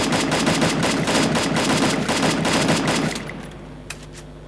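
Rapid bursts of automatic gunfire from the Free Fire video game, loud and sustained for about three seconds before cutting off, followed by a quieter tail with one faint sharp click.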